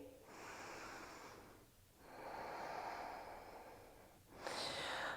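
Slow, deep breathing during a morning vinyasa yoga pose: three long, faint, airy breaths, each a few seconds long, close and alone with no talk.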